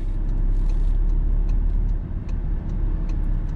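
Traffic rumbles on a street as a bus draws near, a steady low engine drone close by with faint ticks and a brief hiss, and no talking.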